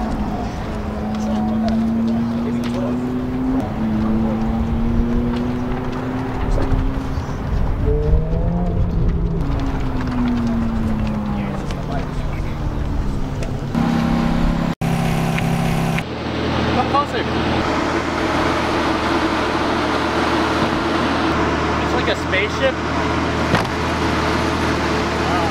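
Lamborghini driven in first gear at low speed around a course, its engine droning steadily with rising and falling pitch as it pulls and eases off, up close and continuous, then shifting to a louder, rougher roar in the second half.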